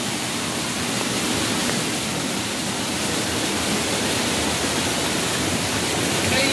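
Light drizzling rain falls as a steady, even hiss, broad and unbroken for the whole stretch, with no voices.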